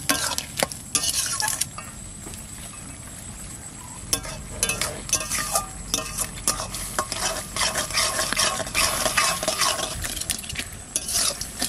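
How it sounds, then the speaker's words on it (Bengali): Tender garden greens cooking with red field crab and garlic, stirred in a pan: repeated close scraping and clinking of a utensil against metal over a constant loud sizzle. "এবার একটু ঘেটে দিই, শাক কটা একটু বেশ সেদ্ধ হয়ে যাবে।"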